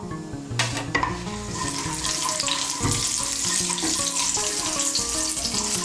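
Whole cardamom, cloves, cinnamon and cumin seeds tempering in hot oil in a pan, a steady sizzle with a few sharp pops and stirring clatter near the start.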